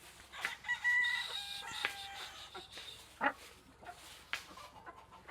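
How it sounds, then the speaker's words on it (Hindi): Roosters crow and squawk in agitation at a city house in Sialkot, stirred up and ready to fight. A few sharp calls stand out over softer clucking and background noise. "वो मुर्गे सारे के सारे एक्टिव हो गए हैं इनको देख के लड़ने के लिए।"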